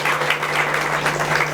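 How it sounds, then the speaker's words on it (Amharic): A crowd at a graduation ceremony applauds in a dense, steady burst of clapping that fills the room, loud and close, with a faint hum underneath. "አመስግኑ እንጂ ባካችሁ፣ አጨብጭቡ፣ አመስግኑ።"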